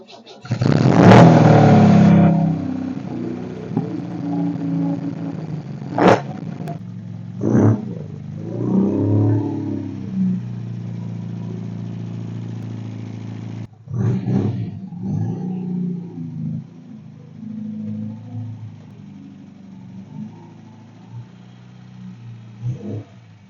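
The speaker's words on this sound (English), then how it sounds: "So we'll start her up, pull her out, and get to work" A normally aspirated MG BGT engine cranks and fires with a loud burst, then settles into a rough idle broken by several sharp revs, a brief cut-off and more revving further away.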